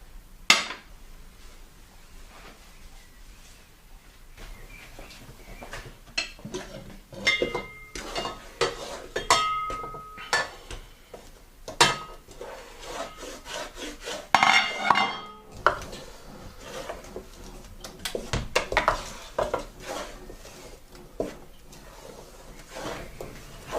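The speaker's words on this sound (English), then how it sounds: "So keep mixing and you want to keep it covered." A spoon stirring curry sauce in a covered pot, giving soft scrapes and intermittent metallic clinks against the pan, quiet and close, in irregular bursts with a few louder knocks, no talking.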